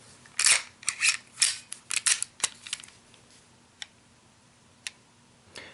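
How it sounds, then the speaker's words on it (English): An FN FNS-9 pistol has its magazine removed, heard as a quick cluster of sharp metallic clicks and snaps at close range, followed by a few isolated clicks on a quiet background. "start by removing the magazine and verifying that the pistol is unloaded."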